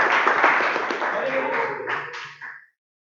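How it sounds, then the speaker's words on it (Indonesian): Students in a classroom applaud a group of classmates, a burst of mixed clapping that fades out after a couple of seconds, with some voices in the room. "beri tepuk tangan untuk kelompok Daniel."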